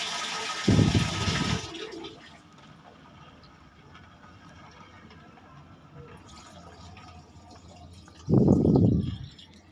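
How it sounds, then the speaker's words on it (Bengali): Water is poured into a small wok for khichuri in two loud bursts of splashing and filling, with quiet room sound between them. "পানি দিয়ে দিতেছি।"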